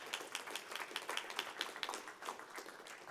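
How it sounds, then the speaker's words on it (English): A small audience at a housing think-tank session claps for a speaker, quiet, irregular hand claps in a light patter that lasts about three seconds with no talking. "If we can put a round of applause for Simone."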